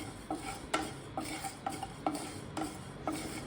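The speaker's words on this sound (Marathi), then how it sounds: "त्याच्यावरती आता जिरं, शोप, मिरे आणि हे साहित्य आपल्याला थोडं गरम करून घ्यायचं आहे।" Cumin, fennel and black pepper are roasted on a hot griddle, stirred with a rhythmic series of about seven short scraping strokes, each with a light metallic clink, close and fairly quiet.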